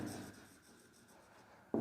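A pen scratches across paper or a board while a maths solution is written out, a faint continuous rubbing stroke that ends with a short sharp tap.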